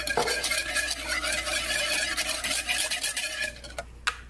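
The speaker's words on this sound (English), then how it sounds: "So we're going to stir that together." A dressing with minced red onion and kosher salt is stirred in a bowl, giving soft, close scraping and clinking in quick irregular strokes, fairly quiet overall.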